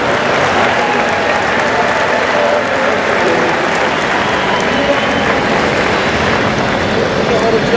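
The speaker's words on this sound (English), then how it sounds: "give him a big hand." Loud, continuous applause from a large crowd at the 2014 Arnold Classic amateur bodybuilding contest greets the champion, a thick clapping roar with crowd voices mixed in.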